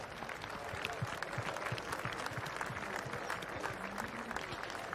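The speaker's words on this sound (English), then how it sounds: "put your hands together and give these guys a huge round of applause" Faint, distant applause at a cattle show ring at the Royal Welsh Show, scattered hand claps from spectators, fairly quiet and spread out across the moment.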